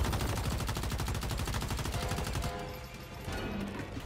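Rapid automatic gunfire rattles in a steady burst from the shooter game Once Human, loud and close, before breaking off into quieter scattered game sounds.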